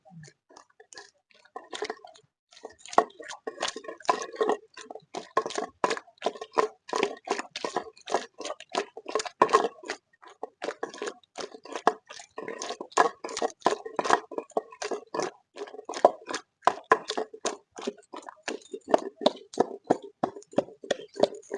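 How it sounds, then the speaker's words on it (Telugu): Cucumber chutney is ground by hand on a stone, giving a long run of rapid, wet squishing and scraping strokes in a steady rhythm, close and alone. "ఎక్కువసేపు నూరొద్దు దీన్ని"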